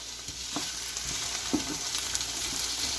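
Chopped carrots and potatoes fry in oil in a pan for menudo, a continuous close sizzle with scattered crackles and the light scrape of stirring.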